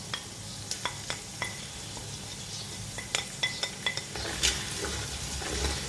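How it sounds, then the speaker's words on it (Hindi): Masala with garlic paste is stirred and fried in a cooking pot for yakhni pulao. A steady sizzle runs throughout, broken by about a dozen sharp spoon clinks and scrapes against the metal, close and fairly quiet, with no talking. "मसाले को भूनेंगे।"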